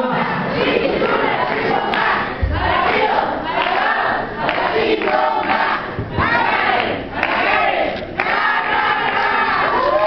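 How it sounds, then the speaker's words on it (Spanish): A large audience at a municipal beauty pageant crowning ceremony in Tultitlán erupts in loud, sustained cheering and shouting, a dense roar with bursts of whoops continuing throughout. "A ver esa porra para Ana Karen."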